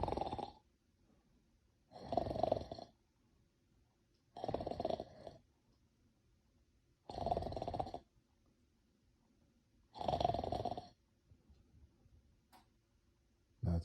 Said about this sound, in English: So let's say I fell asleep and start snoring.